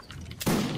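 A loud gunfire volley crashes out in a video game line battle, one sharp burst of massed musket shots after a moment of quieter background.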